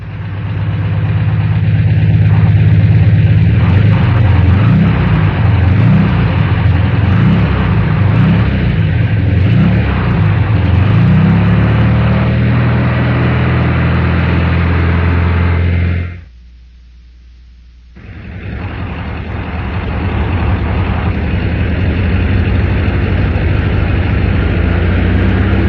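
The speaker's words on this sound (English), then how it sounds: "we first idle and rev a normal engine, and after a pause, do the same thing with an engine missing at low RPM" Volkswagen engine idling and revving, then, after a short silence, idling again with a miss at low RPM; loud, steady and close.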